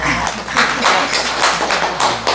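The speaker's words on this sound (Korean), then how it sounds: "박수 한번 쳐주십시오" Short bursts of hand clapping from a small audience at a Buddhist talk, loud and close, with a few distinct claps in an uneven rhythm.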